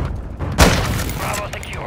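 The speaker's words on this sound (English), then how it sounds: "Throwing grenade." A grenade explodes in Call of Duty MWII multiplayer, one sharp, loud blast followed by a rumbling decay amid ongoing game noise.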